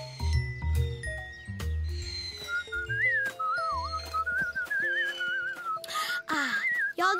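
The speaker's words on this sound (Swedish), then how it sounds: "Ni tre gör intressanta visslande ljud med era juicepaket" Several wavering, high-pitched whistling tones blown through juice boxes warble over a backdrop of tinkling music and soft low notes.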